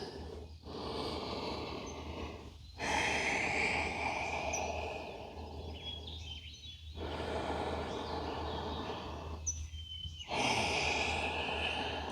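A person rests in yoga child's pose and takes deep breaths, three long slow inhale-exhale cycles, close and fairly loud, each breath clearly separated, with no talking.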